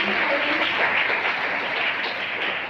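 A resounding round of applause at a school investiture ceremony, an audience of students clapping in a dense, even wash of sound that stays loud and steady before easing slightly at the end.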